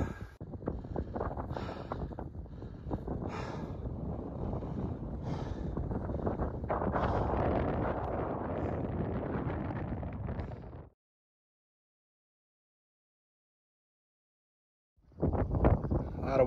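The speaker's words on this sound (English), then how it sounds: "A lot of wind up here, a little hard to shoot video" Strong wind buffets the microphone on an exposed mountain top in the Rockies, a loud continuous roar for about eleven seconds, then a gap of silence before the gusting returns.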